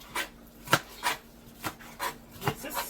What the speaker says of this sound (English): I'm chopping up some scallion.